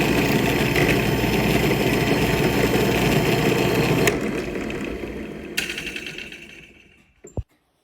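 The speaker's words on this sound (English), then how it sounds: "I can drill through the collar and through the escapement wheel" A drill grinding steadily through a small clock collar and escapement wheel for a pendulum clock, loud and continuous for about four seconds, then fading as the bit slows, with a few sharp clicks and a knock at the end.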